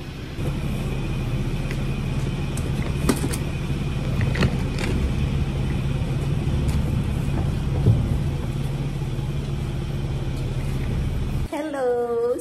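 Interior of a large rented car on the move, carrying belongings for a move into a new apartment in Canada: a steady low engine and road rumble running throughout, with brief clicks and a short beep near the end.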